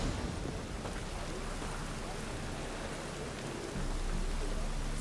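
Steady rainfall in The Witcher 3 Wild Hunt, a dense broadband hiss of drops that stays constant throughout, swelling slightly near the end, with no voices over it.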